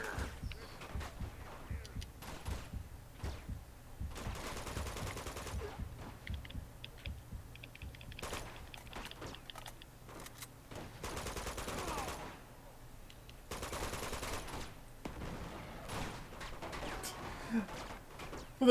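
Video game gunfire and explosions in Uncharted 2: Among Thieves, bursts of rapid shots and booms that come and go in clusters over a low background, with quiet stretches between them.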